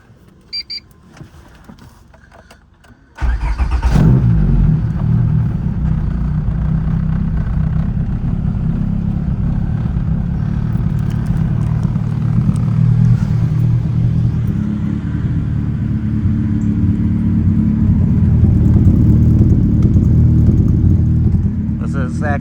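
A Honda Integra on a cold start cranks after a few quiet seconds, then catches. The engine settles into a loud, deep, steady idle through a MagnaFlow resonator and straight-pipe exhaust, recorded up close.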